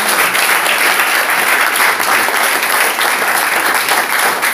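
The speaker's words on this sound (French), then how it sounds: "Alors, applaudissons pour le Seigneur." A church congregation applauds loudly and continuously, a dense wash of clapping that holds steady from start to finish.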